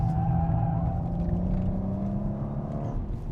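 A 2021 Audi RS5 Coupe at speed on a race track, its engine a steady, sustained drone with a slowly shifting tone as the rear slides through a corner, heard from inside the car at constant loudness.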